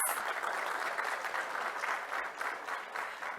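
Audience applause welcoming a panelist at a Brazilian labour-law forum, steady, even clapping from a seated crowd that holds at moderate volume throughout.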